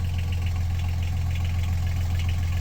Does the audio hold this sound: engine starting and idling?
yes